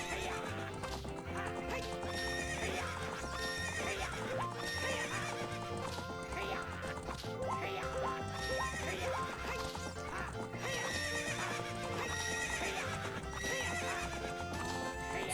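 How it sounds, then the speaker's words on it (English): A horse in the video game The Legend of Zelda: Ocarina of Time whinnies and gallops with continuous rhythmic clip-clop hoofbeats over looping background game music, loud and steady throughout. "What's up with that horse?"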